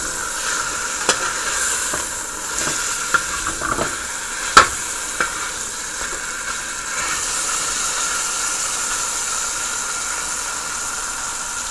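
Chicken breast frying in a pan before going into the oven gives a constant sizzle, with a few sharp clicks and taps from turning the meat, close and without speech.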